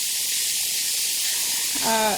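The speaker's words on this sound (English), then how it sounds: "that steam is super duper hot" Hot steam hisses steadily from the vent of a pressure canner during home canning of deer ribs, a broad close rush that swells slightly near the end as a brief higher tone rises over it.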